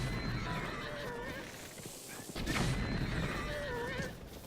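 Horses in Breath of the Wild whinny and neigh loudly while hooves clatter at a gallop, with crashing combat noises mixed in, all close and busy throughout.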